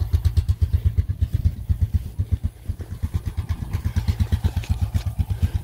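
Motorcycle engine idling up close with a steady, rapid thumping pulse throughout, loud and alone.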